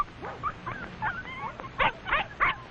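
Dogs, a big red setter and puppies, give a run of short yips, whimpers and barks in an irregular, overlapping series, fairly close and lively.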